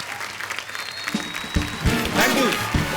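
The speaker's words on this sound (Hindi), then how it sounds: "जोरदार तालियां" An audience breaks into enthusiastic applause, a dense wash of clapping that swells and continues steadily, with voices faintly mixed in.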